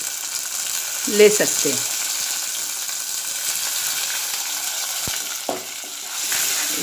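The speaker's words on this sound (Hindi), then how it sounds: "इसको हम थोड़ा प्याज में भूनेंगे।" Fenugreek leaves frying with softened onions in a pan give a steady low sizzle, with a short spoken phrase early on and a couple of faint stirring knocks later.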